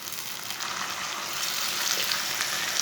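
Chopped tomatoes hitting hot oil with browned onion and garlic, giving a steady close sizzle and spatter that swells a little as they settle in, with no voices.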